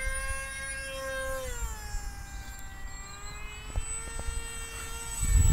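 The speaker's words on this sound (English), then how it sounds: "This is the first time I've flown a plane." A small RC model airplane flies at speed, its electric motor giving a steady high whine that dips and shifts pitch as it passes, heard from a distance over outdoor background noise.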